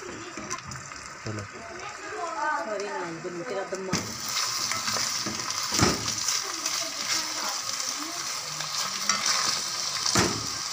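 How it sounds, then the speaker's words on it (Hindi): Onions and garlic sizzle loudly in hot oil, a dense steady crackle with stirring scrapes; someone talks briefly at the start. "अब मैं इसे फ्राई करूँगी"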